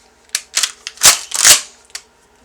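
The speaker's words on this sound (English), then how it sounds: "So there's one in the chamber now, and I'm loading the mag tube." Shells are loaded into the magazine tube of a Benelli Nova 12 gauge pump shotgun, heard as a handful of close, sharp metallic clicks and snaps spread unevenly over a couple of seconds.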